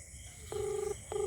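A phone call rings out through the handset in two clear ringback tones, each held steady for about half a second, with the second starting as the clip ends over quiet room background.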